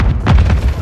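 A Semtex grenade goes off in Call of Duty Modern Warfare 3 multiplayer, a short heavy boom with a rumbling low end and a brief burst of noise.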